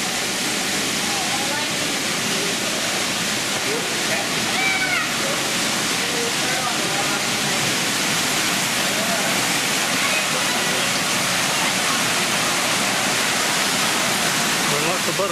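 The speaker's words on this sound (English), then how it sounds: "We're going down where the waterfall is." A waterfall inside a hot, humid butterfly conservatory at Callaway Gardens roars as a constant, broad rushing wash of falling water, steady and loud from start to finish, with faint voices barely showing beneath.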